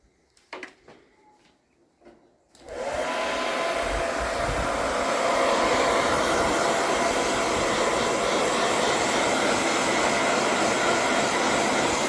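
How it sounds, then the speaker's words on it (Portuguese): After a few quiet knocks, a hair dryer drying varnish on an old ironing board switches on and blows steadily with a loud, continuous whooshing roar that holds to the end. "Agora, a gente seca com o secador."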